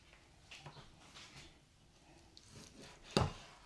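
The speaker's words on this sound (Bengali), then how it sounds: "আমি আপনাদেরকে দেখিয়ে দিলাম কিভাবে মাংসটা টুকরা করতে হবে" A knife chops boneless chicken meat into pieces on a board, with a few soft scattered knocks and one sharp, loud chop near the end, with no talking.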